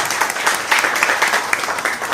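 Audience applause at a Xiaomi MIUI event for a translator standing up, a steady dense wash of clapping filling the full two seconds.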